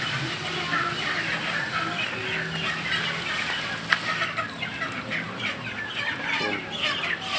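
Many chickens awaiting slaughter at a market cluck and cackle together in a busy, crowded din, fairly close, with a faint voice underneath.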